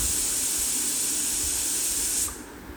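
A loud, continuous hiss of steam rushes from a pressure cooker that needs a tap before it will whistle, then cuts off sharply near the end, leaving a quieter background.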